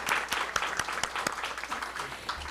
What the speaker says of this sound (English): We're still going to give him a round of applause